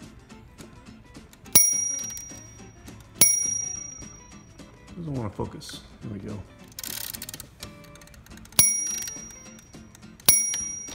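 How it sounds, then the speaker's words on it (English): Bell on a 1931 Royal 10 typewriter rings several times, sharp bright dings spaced out among soft mechanical clicks and carriage noises, with someone speaking briefly in between. "Okay, that's enough of the bell."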